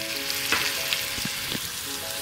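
Ginger garlic paste and cumin fry with browning onions in a pan, a loud, dense sizzle close up, with a few brief scraping stirs; no speech.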